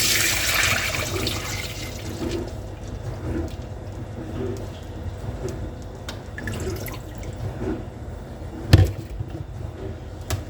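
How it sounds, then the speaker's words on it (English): Water running from a tap into a big pot on the stove, a steady splashing fill with faint drips and a brief clunk near the end. "Now we'll fill the pot with water."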